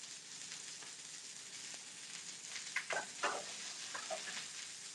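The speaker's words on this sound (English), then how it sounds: "I'm going to try to sear that on each area for about 2 minutes" Pork sizzles steadily as it sears in a pan, a constant frying hiss broken by a few louder crackles and pops near the middle, with no talking.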